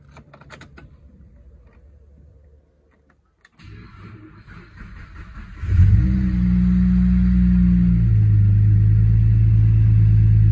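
A supercharged Holden VZ with the Alloytec V6 cranks briefly, then catches and settles into a loud, steady idle with a deep rumble, close by, preceded by quieter handling noises and a short pause.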